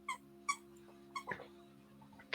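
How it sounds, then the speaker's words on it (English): A pet dog chews and plays with a plush koala toy, producing a few short, high-pitched squeaks spaced irregularly over a quiet room hum, with faint rustling in between. "My dog is playing with her koala, and it's squeaking"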